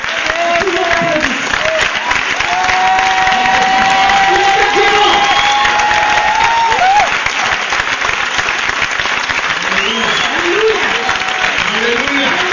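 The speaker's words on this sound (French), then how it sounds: "Everybody clap." A church congregation at a praise and worship service claps and cheers loudly, with crowd voices and a few shouts rising over dense, continuous applause.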